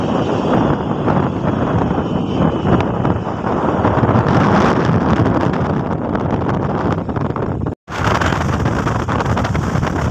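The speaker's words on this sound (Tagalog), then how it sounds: "Grabe, glass ng hangin." Heavy wind roars across a hanging bridge, loud constant buffeting against the microphone that drops out for a split second near the end before surging back.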